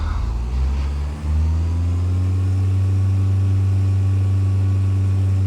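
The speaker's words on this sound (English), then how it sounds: "I'll rev my throttle." A Cessna 172 engine in Flight Simulator X, throttled up from idle into a loud, steady drone whose pitch climbs smoothly and then holds.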